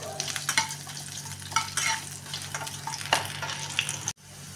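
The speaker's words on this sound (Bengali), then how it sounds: "আলুটা একটুখানি লাল লাল করে ভেজে নেব।" Potatoes fry in hot oil in a home kitchen, a steady close sizzle broken by repeated scraping stirs, and the sound cuts off abruptly near the end.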